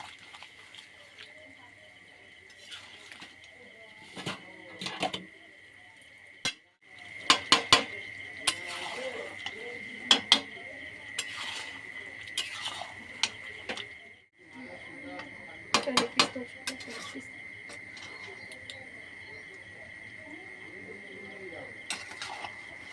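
A spoon stirs and scrapes through spicy red meat curry with potatoes in a pot for biryani, with repeated metallic clinks and a steady hiss underneath, while someone talks.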